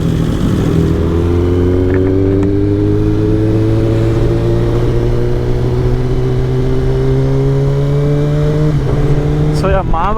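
A group of superbikes, including a ZX-10R, BMW S1000RR, Hayabusa, Street Triple and Z1000, rides along the Bengaluru highway. Loud, close engine drone holds steady, its pitch climbing gradually before a brief shift near the end.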